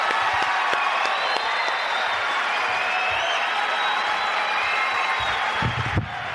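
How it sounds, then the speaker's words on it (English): A comedy show audience breaks into loud, sustained applause with some cheering, a dense roar of clapping that holds steady for several seconds before cutting off. "A big round of applause."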